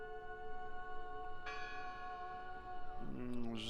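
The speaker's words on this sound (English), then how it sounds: "I heard the bell" Church bell ringing in the video game Draugen, a single resonant strike hanging in a long ringing decay, then a second fainter toll near the end, quiet and somewhat distant.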